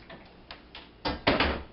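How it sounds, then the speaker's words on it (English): A mixing bowl of cookie dough slid into a home kitchen refrigerator: a few soft knocks and clatters, then two louder thumps as the door shuts, close by over a steady low hum. "into the fridge this bowl goes."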